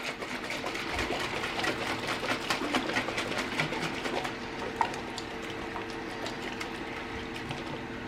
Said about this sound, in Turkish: Şimdi kapağını kapatıyorum ve bunu çalkalıyorum.